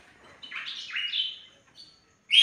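A female breeding bird, one of a paired couple kept by a bird breeder, gives bright chirps and tweets in two short bursts, then falls quiet before a sharp, loud final chirp close to the mic.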